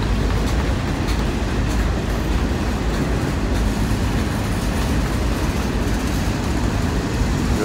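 A CSX freight train rumbles steadily past a busy rail yard, a loud, continuous low roar with rolling wheel noise that holds constant throughout, with no voices.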